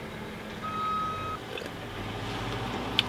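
A big truck's reversing alarm sounds one steady, fairly clear electronic beep amid low traffic rumble, followed by quiet road noise.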